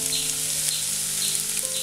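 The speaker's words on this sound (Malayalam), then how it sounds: "സവാള ഒന്ന് നന്നായിട്ടൊന്ന് വഴറ്റി കൊടുക്കാം." Finely chopped onions fry in a pan after bay leaf and ginger garlic paste for chickpea masala, giving a continuous bright close sizzle with a faint low hum underneath and no talk.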